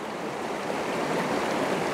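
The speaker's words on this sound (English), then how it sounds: "I've just got the tops of the water that's rippling down" Water ripples down a rocky stream at Deil's Cauldron, a steady, close broadband rush with no pauses and no voices.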